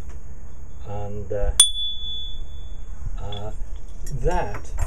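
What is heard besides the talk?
small bell ringing after being brushed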